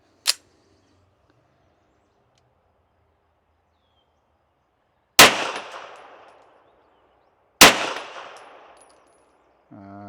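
Three pistol shots from a handgun fitted with a Holosun 507c red dot sight, spaced far apart: one short crack, then two louder, close blasts, each with a brief ringing decay, with no talking between them.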